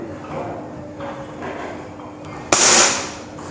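A Norica Viriatus air rifle fires a single shot, a sudden loud crack with a short hissing tail, preceded by low background murmuring and faint handling noise.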